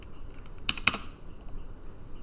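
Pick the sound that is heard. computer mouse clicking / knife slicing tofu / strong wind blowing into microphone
computer mouse clicking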